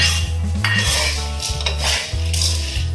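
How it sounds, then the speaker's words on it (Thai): Textured soy protein mince and diced, soaked shiitake mushrooms frying in oil in a pan for a vegetarian seaweed rice roll filling, with close metallic scraping and stirring clatter over a steady sizzle and no talking. "เราก็จะนำโปรตีนหมูสับนะครับ มาทอดในน้ำมันนะครับ"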